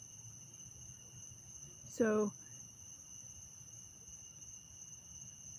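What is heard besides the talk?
crickets chirping outdoors at night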